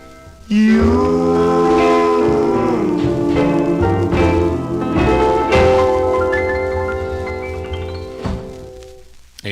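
Doo-wop group harmony 45 from January 1954, a vocal group singing a slow love ballad, with a lead voice over layered backing harmonies, steady and full throughout.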